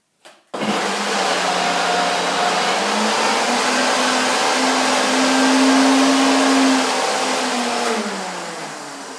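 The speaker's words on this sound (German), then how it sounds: "dann könnt ihr sicher sein, der Mixer hat perfekt gearbeitet" A countertop blender runs steadily at high speed, mixing a thick raw chocolate nut cream for a raw-food torte. It starts abruptly with a loud, even whirring drone and a slight pitch change, then fades slightly near the end.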